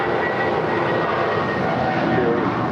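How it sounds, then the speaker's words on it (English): Airliner passing over at LAX, a loud, steady broadband engine roar that holds throughout, with no talk over it. "I'll tell you more after this plane noise we're about to have."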